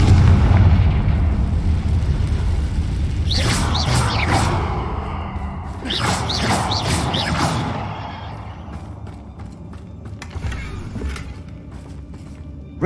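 Explosions from the Confringo blasting spell in a video game, several booming blasts in quick succession with rumbling tails, loud and close, followed by a quieter lingering rumble.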